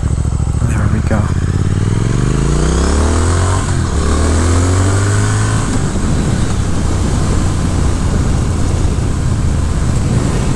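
A 2022 Triumph Speed Twin motorcycle engine rumbles while riding, revving up and shifting through rising pitches early on before settling into a steady drone under strong wind noise.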